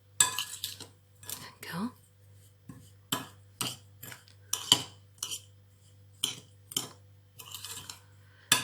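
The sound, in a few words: mixing dziriet almond filling with a spoon in a bowl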